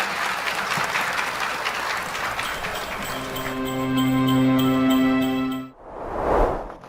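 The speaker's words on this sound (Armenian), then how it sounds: "Բարձր ծափահարություններ" Loud audience applause at the close of a news broadcast segment, steady clapping from a crowd that swells toward the end, with a bright chime-like musical sting layered over it before cutting out.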